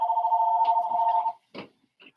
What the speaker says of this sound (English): leave the phone alone. Let it ring.